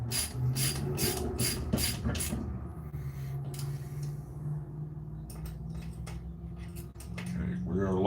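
Bolts are tightened on the frame of a new Iron Creek grinder, with quick rhythmic ratcheting clicks up close, then a lower mechanical hum and scattered clinks while someone talks.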